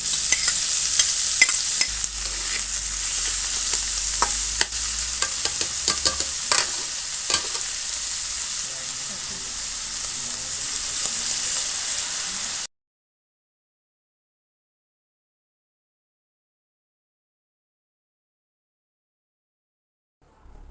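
Butter, garlic, onion and mushroom sautéing in a pan for carbonara, a steady close sizzle with repeated stirring scrapes that stops abruptly partway, leaving silence.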